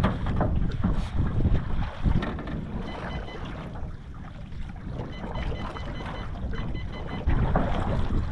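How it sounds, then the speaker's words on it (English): Steady wind blowing across a lake around a canoe while out walleye fishing, a continuous loud rumbling roar buffeting the microphone without pause. "It's a little windy"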